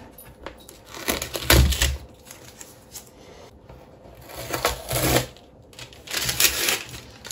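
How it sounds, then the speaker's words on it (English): Tape being peeled from a cured resin sculpture in bursts of close, crackly tearing and rustling separated by short pauses, with no talking. "I start delicately removing tape"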